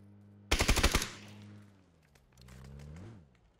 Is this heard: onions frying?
no